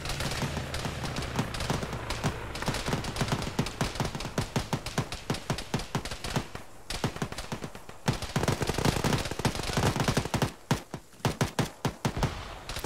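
A firefight in the military game Arma during a ShackTac session, with sustained bursts of machine-gun and rifle fire, rapid sharp reports in clusters and brief pauses between volleys, loud and near.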